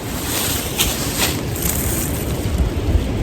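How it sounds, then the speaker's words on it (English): Strong wind roaring steadily against the microphone, a dense, unbroken rush with gusty swells and no voices. "listen to that wind whipping up"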